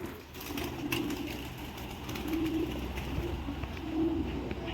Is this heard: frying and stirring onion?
no